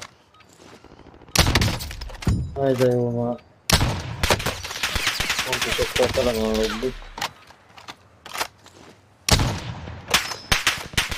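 Call of Duty gameplay gunfire rattles in loud, rapid bursts of automatic shots and sharp single cracks, spread across the clip, while someone talks in Hungarian between and over the shooting.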